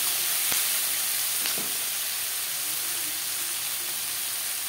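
Onions and tomatoes for a Bengali-style aloo chicken curry fry gently in a pan, giving an even, soft sizzle with a couple of faint stirring taps.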